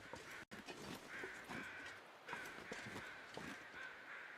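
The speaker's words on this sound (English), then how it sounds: "Hello, crows." Crows caw repeatedly in the video game Voyageur, harsh calls coming in steady bursts over a continuous outdoor ambience with no talk.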